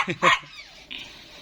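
A small German Spitz dog gives two quick, sharp barks close by, followed by a brief high whine.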